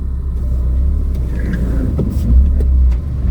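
A car rumbles past at close range on a narrow single-lane road, its low engine noise swelling briefly and then fading.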